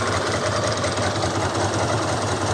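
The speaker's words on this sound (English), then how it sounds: "Engine running, battery light still on." A Ducati motorcycle engine with a battery-light fault runs close by in a steady, dense, unbroken drone, alone with no talking.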